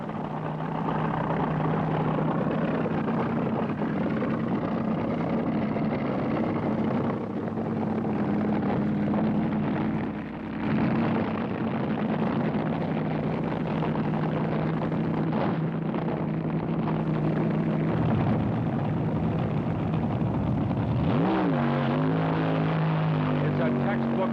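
A steady, loud engine drone of nitro-powered top fuel dragsters racing fills the whole stretch, with a sharp pitch sweep near the end as they roar past, and voices faintly underneath. NHRA World Finals drag racing, Tulsa, 1968.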